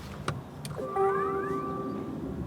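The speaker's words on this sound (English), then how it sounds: "There was a little beep to tell us that the car had switched on" An electric car switching on gives a short electronic chime: a thin, clear tone after a couple of soft clicks, fairly quiet over a faint background hush.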